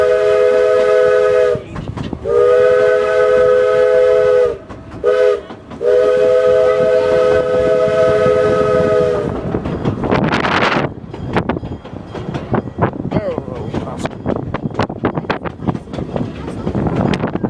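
A narrow gauge train on a ride sounds its steam whistle in three long blasts with short pauses, loud and close, then the whistle stops and the rumbling, clattering rolling noise of the cars carries on.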